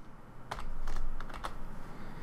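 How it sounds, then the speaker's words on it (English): A few crisp computer keyboard key presses during architectural modelling work, a quick cluster of light clicks followed by a couple more, close and fairly quiet against a soft room hum. "I'm gonna hit the enter key"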